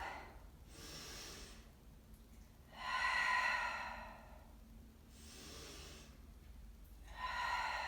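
Audible breathing during a dumbbell arm workout, slow alternating inhales and exhales in long swells roughly every two seconds, close and fairly soft with no talk.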